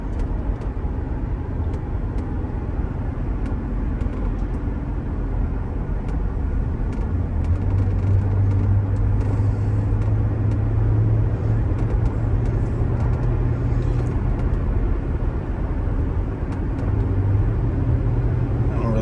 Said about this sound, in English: It sounds like just tire noise in the rear a little bit.